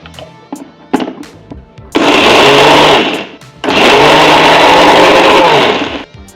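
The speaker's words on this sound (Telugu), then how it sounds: "ఇంక ఇవన్నీ మనము మిక్సీ పట్టుకు వేసుకుందాం పేస్ట్ లాగా" Mixie grinding brinjal masala with coriander into a paste for Andhra-style vankaya velluli karam, two loud sustained whirring bursts separated by a short pause, after a few light clinks.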